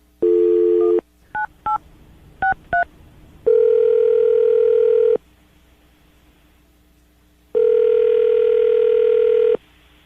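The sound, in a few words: telephone dial tone and dialing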